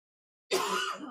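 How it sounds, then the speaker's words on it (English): After a moment of silence, a single harsh cough bursts in close to the mic, rough and throaty, then trails off. "are you still coughing?"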